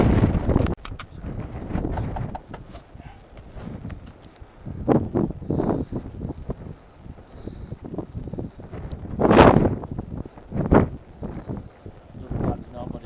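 Gusty wind at a beach on a very windy day, buffeting the microphone in uneven blasts with one strong surge partway through, under scattered movement sounds.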